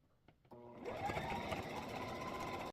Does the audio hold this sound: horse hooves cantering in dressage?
no